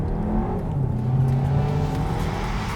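A 2022 Volkswagen Tiguan in sport mode pulls hard, its engine note rising and falling as the revs climb steadily, heard close and continuous from inside with no other sounds over it.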